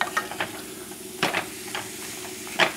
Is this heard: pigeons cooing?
no